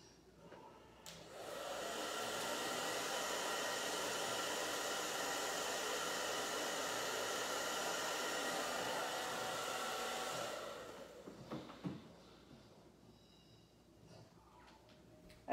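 A handheld blow dryer runs on a shoe transfer, a steady whooshing roar that switches on after a second, holds for about nine seconds, then cuts off, leaving faint room clatter.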